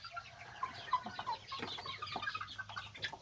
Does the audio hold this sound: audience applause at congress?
no